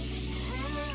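Makeup setting spray is misted onto a face, a soft continuous airy hiss lasting about a second at moderate volume, alone without talk.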